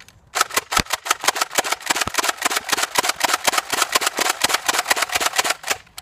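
An unmodded Blastermodshop Elite Alpha Trooper foam toy blaster slam fires in a rapid, even burst of loud mechanical clacks, around two dozen shots close up with no talking.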